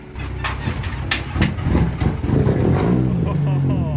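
Dirt bike engine being bump started, sputtering and catching, then revving with rising, rough engine tone, close and loud, with voices talking and shouting over it.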